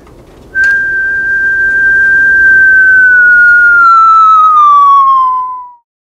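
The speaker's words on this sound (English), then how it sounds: "if I change the tone of the whistle" A single sustained whistle tone that slowly glides downward in pitch for about five seconds before cutting off, loud and alone with no talking.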